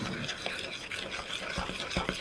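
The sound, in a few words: stirring powdered sugar and vanilla mixture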